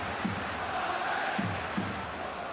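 Football crowd at a Chelsea away match at Reading in 2006, a steady broad roar of the stadium with brief swelling shouts rising above it.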